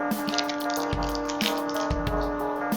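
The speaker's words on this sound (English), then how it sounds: "This is tap water." Steady running water from a faucet, continuous and close, with a faint droning hum and a couple of low thumps underneath.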